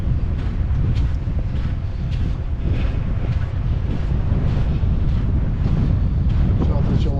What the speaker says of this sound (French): Désolé pour le vent, vraiment je suis vraiment désolé.